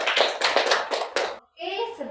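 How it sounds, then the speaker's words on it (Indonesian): Classroom applause from a group of students, a dense patter of hand claps with a couple of louder bursts, then a brief pause before speech takes over. "Tepuk tangan untuk semua"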